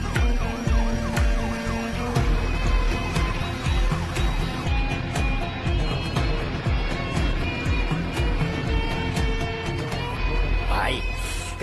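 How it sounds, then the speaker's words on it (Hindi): Ambulance siren wailing in a movie scene, loud and continuous under dramatic music and engine rumble, with a brief rising sweep near the end. "सर, एक एम्बुलेंस कुल्लमवाड़ी एरिया में काफी देर से घूम रही है"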